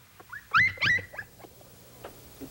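A wolf cub whimpers in a 1957 television episode, giving a couple of high, wavering cries close by followed by fainter whines, with no talking.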